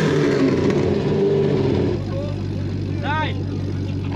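A tuned car with a 6-litre supercharged engine and ProCharger revs during an exhaust check at a Polish moto show, a loud throaty roar that drops to a lower idle, with people talking nearby.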